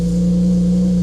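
A crashed 2016 BMW 335i engine running after a start, a loud steady low drone with a strong constant tone and no clear rev change, close up with no talk.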